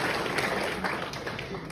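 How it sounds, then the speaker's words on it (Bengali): An audience at a cement company programme in Cox's Bazar claps, a brief dense wash of applause that stays even throughout. "আমরা সবাই জোরে এনসির জন্য জোরে আরো একটা করতালি দিতে চাই।"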